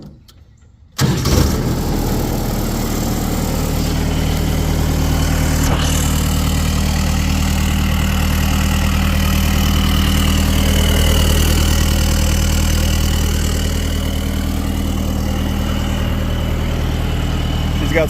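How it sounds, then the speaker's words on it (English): A Kubota diesel engine swapped into a six-wheel Willys Jeep cranks and catches, then settles into a loud, steady, rumbling idle that runs on close and unbroken. "I can start it up here for you guys."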